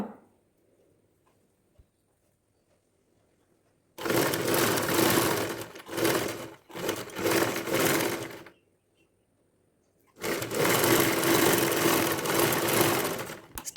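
A sewing machine stitches a neck piece for a garment, running in two loud bursts of steady whirring with a short pause between them, separated by stretches of near silence.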